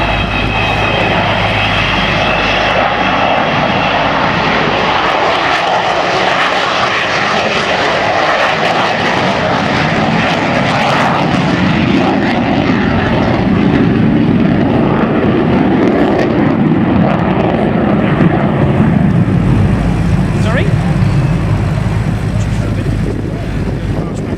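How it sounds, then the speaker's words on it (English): An Avro Vulcan jet bomber passes low and slow with its wheels down at an air show, its engines giving a loud, sustained roar that swells as it goes by, with wind noise and a voice underneath. "supporting this magnificent airplane, doing a low, slow, wheels down flight path"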